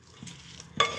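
Fish pilau with coconut milk being stirred in a pot, a short scrape and swish rising to a brighter burst near the end, close and fairly quiet with no talking.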